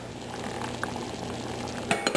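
Rice boiling in a pot on a home stove, a steady bubbling hiss with low rumble throughout, ending in a few brief clinks and stirring sounds near the close.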